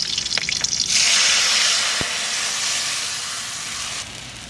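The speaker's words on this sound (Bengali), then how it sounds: "সর্ষে গুলা জলটা দিয়ে দিচ্ছি" Mustard paste mixed with water poured into a hot pan of oil with black cumin and green chillies, giving a loud steady sizzle and hiss that rises abruptly and then slowly fades.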